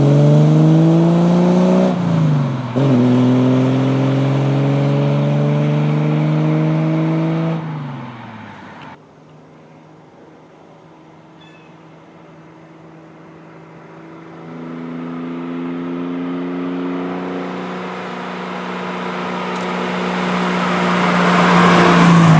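A restored 1968 Triumph TR250 on a test drive: the engine revs up through rising gear pulls, drops to a quiet idle, then accelerates again, loud and close throughout.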